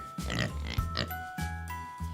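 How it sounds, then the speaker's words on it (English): Pig grunting in a few short, close oinks separated by brief pauses, heard alone without any talk. "We have a pink pig"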